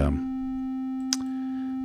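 A synthesizer VCO puts out a steady sine wave at audio rate, a constant pure tone held throughout, with a brief click partway through.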